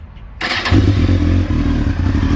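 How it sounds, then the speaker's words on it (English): 2007 Kawasaki Ninja ZX-10R sport bike engine with titanium exhaust firing up and roaring, a sudden loud bark followed by a steady, throaty idle rumble, close and alone. "Other than that, this bike roars."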